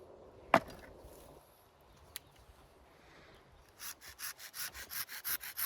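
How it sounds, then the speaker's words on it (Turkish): A couple of sharp knocks, then a hand saw rasping through a walnut branch for grafting in a quick, regular series of back-and-forth strokes that grows louder. "Böyle testereyle kesiyoruz."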